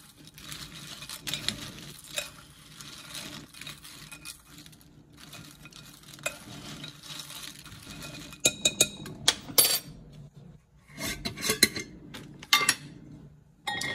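Christmas treat ingredients are stirred together in a bowl, giving irregular clinks and scraping taps that grow busier and sharper toward the end, close and moderately loud.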